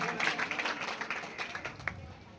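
Audience members at a Ganesh program clap for a speaker in a short, scattered burst of applause, moderately near, with a voice briefly audible over the clapping.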